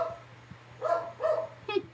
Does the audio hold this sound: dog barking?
yes